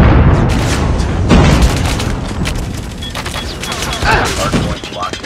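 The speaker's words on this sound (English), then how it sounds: "Hostile predator missile inbound." Predator missile strike in a COD Mobile Hardpoint match, a loud sustained rumbling blast layered with gunfire and battle clatter, a second boom surging near the end.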